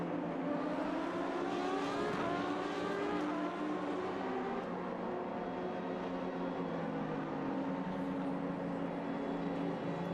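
Race car engines in the sim racing game Automobilista 2, 2005 endurance content, a steady loud drone of several cars with rising and falling engine tones as they rev and pass, with no talk.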